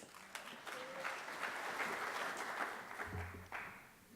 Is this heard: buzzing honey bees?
no